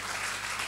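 A church congregation at a Sunday worship service applauds together, a brief, steady patter of many hands clapping at moderate volume over a low hum, with no speech.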